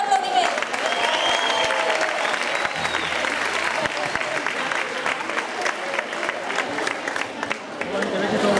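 Audience applause at a children's summer camp rock concert, a full crowd clapping steadily and loudly for the whole stretch, with cheers and scattered voices mixed in.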